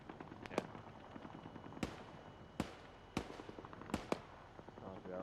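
Mortar shells exploding in ArmA 3 combat, five or six sharp, fairly distant blasts at irregular intervals over low battlefield rumble.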